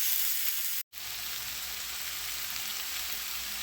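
Collard greens mixed with onions fry in bacon grease with a steady, close hiss and crackle, broken by one brief dropout before the sizzle continues evenly.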